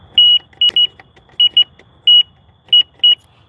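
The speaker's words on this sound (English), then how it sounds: "See this little alarm box here?" A lift station alarm box emits loud, high electronic beeps in an irregular pattern of single and paired tones, close by, over faint background noise.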